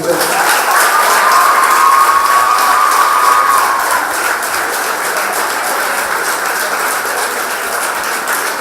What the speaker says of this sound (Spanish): aplauso forte para o ministro presidente, senhor Achis